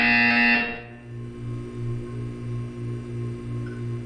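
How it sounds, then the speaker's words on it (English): Buzzer from the video game Portal 2, a steady low electronic drone that pulses evenly about twice a second, preceded by a brief burst of louder tone at the start. "You will hear a buzzer. When you hear the buzzer, look up at the ceiling."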